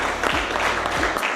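At a football season launch ceremony, an audience applauds a coach. A dense, loud and steady patter of clapping holds throughout, with a couple of low thumps underneath.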